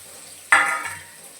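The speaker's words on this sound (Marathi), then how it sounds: "जे आपण मॅरिनेट करून ठेवलेले मासे आहेत ना मुशी, ती आपण या तेलामध्ये टाकणार आहोत." Marinated mushi (shark) fish pieces dropped into hot oil, a single sudden loud sizzling burst that tails off over about half a second, close up.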